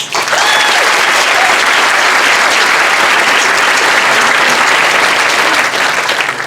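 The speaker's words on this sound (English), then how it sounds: "Congratulations, seniors. Give yourself a big round of applause." A crowd at a 2019 high school commencement ceremony breaks into loud, sustained applause, a thick, even wash of clapping from many hands that holds steady throughout.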